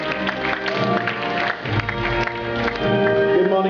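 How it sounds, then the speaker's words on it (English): Audience applause for actor Rajat Kapoor at the Classmate Young Authors Contest 2008, a dense, loud wash of clapping that carries steadily for several seconds without a break. "Give him a big round of applause."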